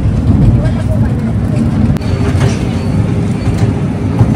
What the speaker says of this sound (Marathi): ट्रेन स्लो आहे आपली पण मस्त आहे.